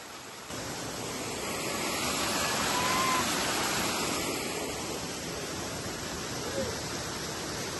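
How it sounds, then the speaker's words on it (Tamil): A strong waterfall pours with a dense, steady roar of rushing water, loud and continuous throughout. "நிறைய தண்ணி வருது"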